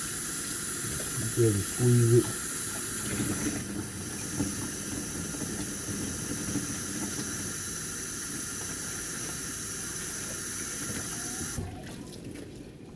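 Water is poured over a Jordan Black Cat 13 sneaker, running and splashing steadily for most of the clip, with a person speaking briefly near the start over the flow.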